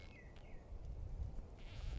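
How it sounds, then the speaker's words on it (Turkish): Large wasp buzzing among raised vegetable beds in a garden, a faint, wavering drone that rises and dips as the insect moves about nearby, alone and without talk. "Buna eşek arısı mı derler?"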